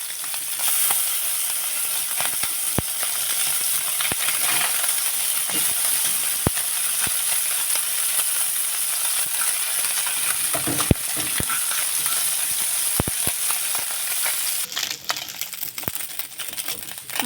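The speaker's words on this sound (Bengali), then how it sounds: "মাছগুলো আমার ভালো করে ভাজা হয়ে গেছে" Small fish fry in hot oil in a pan, giving a steady, close sizzle broken by occasional sharp clicks and scrapes as the pieces are stirred and turned.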